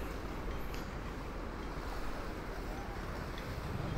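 Steady broadband wash of waves and wind on the gently sloping, shallow Carocok Painan beach in Pesisir Selatan on a morning, continuous and fairly even with no voices.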